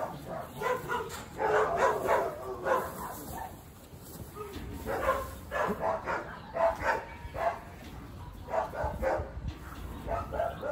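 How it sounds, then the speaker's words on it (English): Dogs bark repeatedly in short bursts at a moderate distance on a sheep farm, with some yips and whimpers between the volleys. "I don't know what the dogs are barking at."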